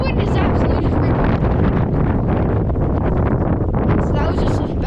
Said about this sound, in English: That wind is absolutely just ripping.